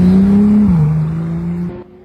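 A Ferrari 456, a four-seat V12 car, holds a steady engine drone, briefly shifting down in pitch midway before settling and then easing off near the end, loud and close with no talk.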